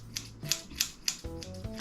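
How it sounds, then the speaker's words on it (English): Hair-cutting scissors snipping someone's own long hair in a bathroom: a steady series of sharp, close snips roughly every quarter second, with faint metallic rubbing between them and no talking. "Psycho person cuts their own hair in the bathroom with scissors."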